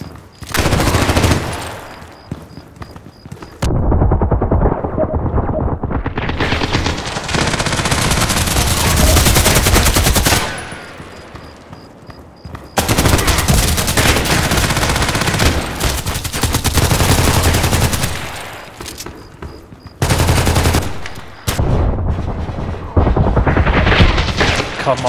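An AK-12 assault rifle fires in the online shooter Contract Wars: loud, close bursts of rapid automatic gunfire in several long volleys separated by brief pauses.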